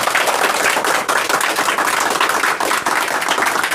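Dense, sustained applause from a large audience at a school student-honouring ceremony, steady clapping filling the whole stretch without pause.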